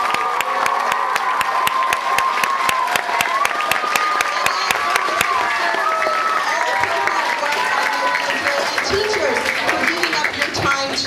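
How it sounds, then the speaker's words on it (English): Parents and guests applaud loudly after a third-grade school musical, with dense sustained clapping, cheers and whoops, and children shouting over it. The applause stays strong and continuous throughout. "Let's give our third graders another round of applause."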